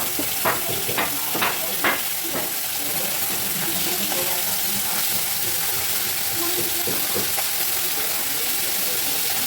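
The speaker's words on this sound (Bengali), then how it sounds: "আর এদিকে আমি ডাল বসিয়ে দিয়েছি ডাল সেদ্ধ হচ্ছে" Masoor lentils boil in a pot on the stove with a dense, steady bubbling hiss throughout, a few sharp knocks near the start and no speech.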